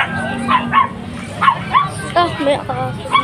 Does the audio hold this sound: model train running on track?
no